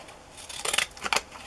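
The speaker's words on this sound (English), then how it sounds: "maybe I'll just use my deco scissors" Decorative edging scissors snip through cardstock during a papercraft tag-making session, a few close, crisp cutting crunches rising out of a quiet background, with no talking.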